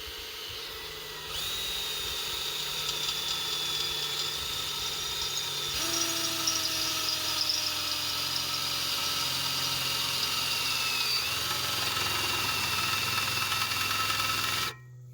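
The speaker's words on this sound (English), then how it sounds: "So we're just going to drill a small hole right here next to the end of these vice grips." An electric drill bores a small hole beside the brakes of a Kubota HST tractor, next to clamped vice grips: a loud, steady high whine held for about thirteen seconds before stopping abruptly.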